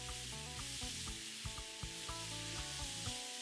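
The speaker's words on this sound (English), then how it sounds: "because the oil is still very hot, add onions and the carrots" Onions and carrots sizzle steadily in very hot oil while a lamb shank curry is being cooked, a close, continuous frying hiss with small crackles and pops and no one talking.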